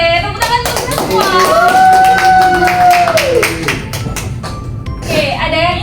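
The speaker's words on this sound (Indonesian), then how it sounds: "tepuk tangan untuk semua" A classroom of students clapping together in unison as a teacher leads a cheer, with loud vertical bursts of hand claps mixed under a voice singing and talking over them.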